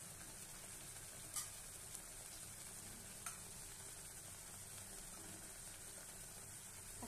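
Ghee sizzling and frying in a pan of vegetarian cabbage-paste potato curry (aloo dum), a steady soft crackle held throughout with a couple of faint clinks from a spoon.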